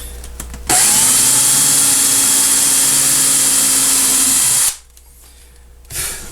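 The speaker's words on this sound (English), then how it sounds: "I'm going to use a brad point bit." A power drill with a brad point bit bores partway into wood with a loud, steady whine for about four seconds, then stops abruptly, followed by a brief knock.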